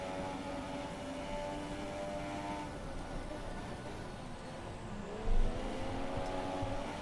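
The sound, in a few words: race cars on track in Formula 1 2017 video game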